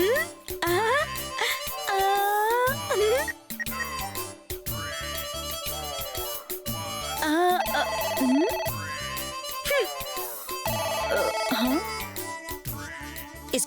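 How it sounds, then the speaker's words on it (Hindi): A telephone rings in a household drama, a melodic ringtone repeating over and over, prominent under background music and voices. "फोन आएगा तो मैं ही उठाऊंगी क्या?"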